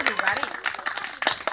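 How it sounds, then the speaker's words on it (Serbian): Brief, quick, scattered clapping from an audience cheering a young girl at an eighth-birthday magic show, with a voice talking over the applause. "aplauz za Nikolinu"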